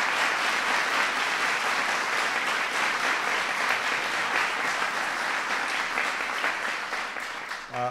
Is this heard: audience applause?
yes